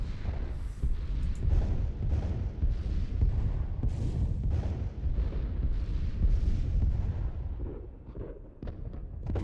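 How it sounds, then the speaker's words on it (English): Orbital bombardment of planets in the space strategy game Master of Orion, a steady barrage of deep, rumbling blasts and booms rolling continuously at moderate volume with no talking. "Start bombarding planets."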